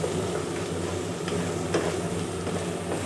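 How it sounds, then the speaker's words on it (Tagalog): Okra with fresh mushrooms, sambal and plenty of garlic is stirred in a pan, giving a close, steady sizzle with light scraping of the spatula. "Halu-haluin hanggat mahilo sila lahat"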